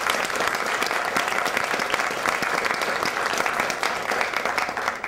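Luncheon audience applauds warmly at an anniversary event for the Landmarks Law, a dense, sustained burst of many hands clapping that tapers off near the end, with no voices over it.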